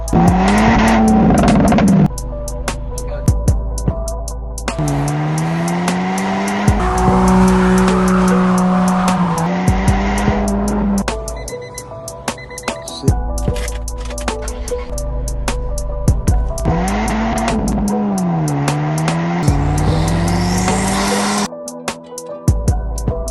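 Fast cars at a street car meet rev hard and squeal their tires, rising and falling engine whine with long screeching skids, loud and close, with a crowd murmur underneath.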